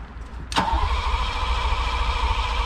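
A car engine cranks over with an injector cracked loose and no fuel reaching it, so it fails to start. A sharp click opens into a steady, continuous mechanical whir over low rumble, with no voices.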